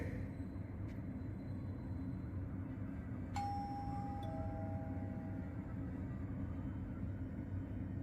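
Apartment building doorbell in the video game Fahrenheit (Indigo Prophecy), a single clear electronic chime tone sounding once, then a second lower tone, over a quiet low ambient rumble.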